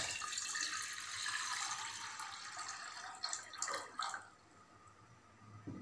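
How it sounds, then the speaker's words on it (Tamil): About half a litre of water poured from a tap or jug into a cooking pot for herbal tea, a steady splashing fill that thins out midway, followed by a few clinks of the pot. "இப்போ தண்ணி ஊற்றிக்கலாங்க."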